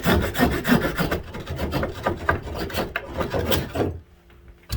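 An Opinel #12 folding pocket saw rasps back and forth through a small piece of wood, a steady run of close, gritty strokes that stops abruptly near the end as the cut goes through.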